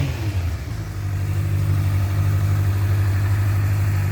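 A 2013 Honda CBF600S motorcycle engine idles close by, a loud, steady low rumble with an even throbbing drone throughout.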